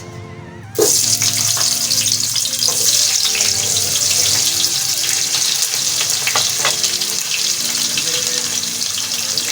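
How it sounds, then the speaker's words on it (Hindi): Onions drop into hot oil, bursting into a loud sudden sizzle that then roars on continuously, with occasional light stirring clinks beneath it. "तेल हमारा गरम हो चुका है, जो हमने पहले रख दिया था। सबसे पहले इसमें जाएगी प्याज।"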